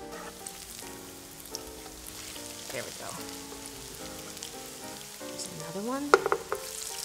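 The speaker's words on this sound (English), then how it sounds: "we're going to let these just sizzle away until they're nice and brown on the bottom" Squash pancakes frying in a pan, a steady soft sizzle running under the whole stretch with scattered crackles and a few sharper pops near the end, with a brief bit of talk over it.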